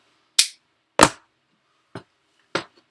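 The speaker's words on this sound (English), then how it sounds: "let me strip this down a little bit. Okay, they come down just like a modern shotgun" Four sharp metallic clacks come from a Crescent shotgun being broken open and taken apart, spaced unevenly and close to the microphone.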